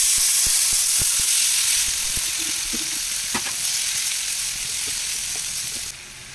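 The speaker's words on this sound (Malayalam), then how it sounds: "ഇതിലേക്ക് നമ്മൾ കട്ട് ചെയ്ത് വെച്ച തക്കാളി ഇട്ട് കൊടുക്കാം." Chopped tomatoes hit hot oil for a quick Kerala egg curry, a loud, bright hissing sizzle with a few light clinks at the start, easing slightly as the flame is lowered.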